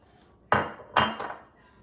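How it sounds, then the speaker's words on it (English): Two sharp metal knocks of a utensil in a pot of pumpkin soup made with canned Libby's organic pumpkin puree, each followed by a brief scrape, then a third lighter clink, close and distinct in an otherwise quiet kitchen. "Get this all stirred up here."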